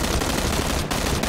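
In PUBG, someone fires a dense, continuous burst of automatic gunfire at a car. The shots are loud and close and run without a break for about a second and a half.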